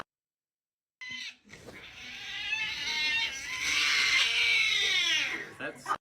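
A cat crying as if in pain: a drawn-out, strained wailing yowl that swells and wavers for several seconds, fairly loud, with a brief voice-like sound near the end.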